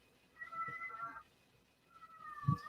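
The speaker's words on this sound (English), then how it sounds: "I am so sorry about the cat" A cat meows twice during a live artist stream, the first a drawn-out call and the second rising a bit louder after a short gap, both fairly close in a quiet room.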